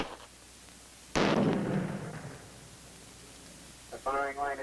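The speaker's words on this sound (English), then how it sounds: "Trainee, get rid of that grenade." A training grenade goes off with a single sharp, loud blast that decays into a rumbling tail, followed by quiet and then a voice shouting.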